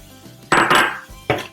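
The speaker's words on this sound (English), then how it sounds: "In that I'm going to add some corn that has been taken off the cob." Fresh corn kernels cut off the cob hit a pan of melted butter, a sharp sizzling rush followed by a second shorter scatter, loud and close, with no talking.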